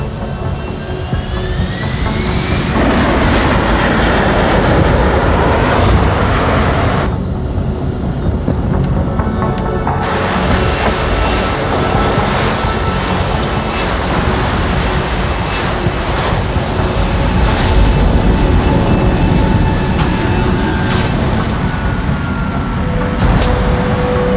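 A loud, continuous roar of an aircraft coming in to land in the video game Deus Ex: Human Revolution, a heavy engine and wind rush that swells and shifts without letting up.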